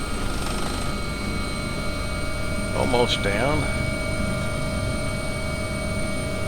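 A helicopter settles in to land from auto hover, just short of its pad, a steady whining drone with high tonal lines running throughout while a voice speaks briefly partway through.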